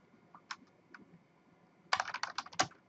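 Computer keyboard typing of a network command, a few isolated key clicks followed by a quick close burst of keystrokes, near and clear against quiet.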